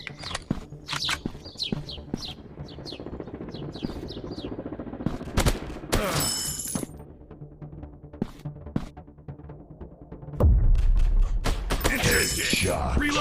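Gunfire in a first-person shooter game, Counter Terrorist FPS and PUBG, with scattered shots, bursts and clattering effects amid game noise, plus a heavy rumbling blast near the end.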